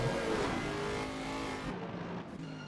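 Race car engines roar in the Assetto Corsa Competizione game at the Nürburgring, a Ferrari chasing a McLaren. The engine note is loud and steady, with the pitch rising and falling through gear changes and a car passing close by.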